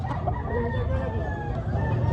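A rooster crows in a long, strained call over a busy background of crowd noise and murmuring voices at a rooster expo in a public market in Cebu City.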